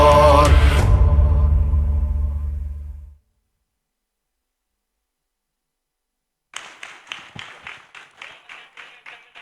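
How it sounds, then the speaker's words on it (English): A loud sung performance of a Bengali song ends, and after a few seconds of silence a small audience claps in a steady, rhythmic beat. "Let's give it another round of applause, ladies and gentlemen, to the talented performers who brought this vision to life so beautifully."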